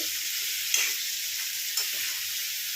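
Eggplant pieces frying in oil hiss in a steady, bright sizzle, and two soft stirring scrapes break through it. No voices are heard.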